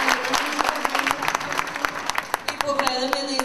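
An audience at a first-birthday party with Grandfather Christmas claps in dense, lively applause, close and continuous, with voices mixed into the crowd noise.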